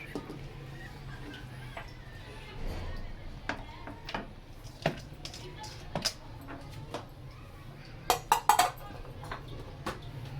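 Spaghetti scooped into a bowl while preparing chicken spaghetti spring rolls, sparse clinks and clatters of dishes and cutlery, with a quick cluster of sharp knocks near the end, over a quiet kitchen background.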